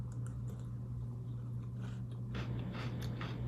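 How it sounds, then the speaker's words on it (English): Close, crisp crunching of chewing crunchy berry cereal O's, steady bites with a louder burst of crunches toward the end, over a low constant hum. "Can you hear that? They're crunchy."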